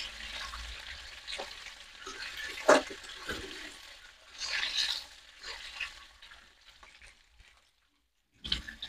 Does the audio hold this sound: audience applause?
no